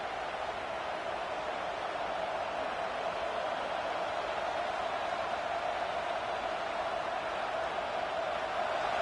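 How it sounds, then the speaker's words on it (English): A large stadium crowd at a Texas A&M football playoff game roars early in the game in a steady, unbroken wash of distant noise, sustained throughout without individual voices standing out. "It's early, but this crowd is fired up. Listen to this noise here."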